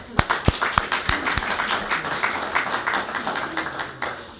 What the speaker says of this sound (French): Une main d'applaudissement pour toi.